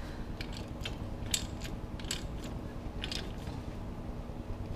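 Ratchet cranking down the nut on a homemade pinion bearing press tool for a Jeep Wrangler JK, a series of soft evenly spaced clicks over a constant low mechanical hum, quiet and close.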